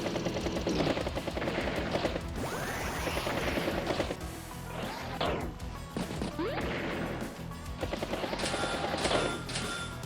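Battle effects from the turn-based strategy game Advance Wars: tank and battlecopter attacks play as loud crashing impacts, rattling bursts of gunfire and whooshing sweeps, repeating through the stretch in quick succession.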